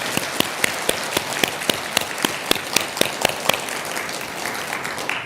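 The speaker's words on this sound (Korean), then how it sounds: "우리 모두를 위해서 박수 한번 크게 쳐주시기 바랍니다" An audience at a Buddhist temple's New Year dharma service applauds heartily, with a broad bed of clapping and several loud, regular claps from one or two people nearby.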